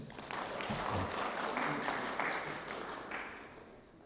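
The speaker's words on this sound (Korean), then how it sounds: "박수 한번 쳐주세요" Applause from the congregation at a Won Buddhist dharma service, a soft, even patter of many hands from a distance, tapering slightly at the end.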